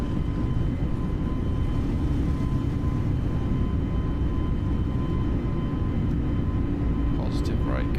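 Airbus A32NX airliner in Microsoft Flight Simulator 2020 climbing out after takeoff from Berlin, a loud constant roar of jet engines filling the whole stretch with a steady hum.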